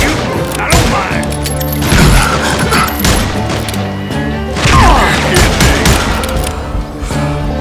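Gunfire in the Western shooter Call of Juarez Gunslinger, with dense, loud bursts of shots and crashing impacts running continuously, a voice talking over the action.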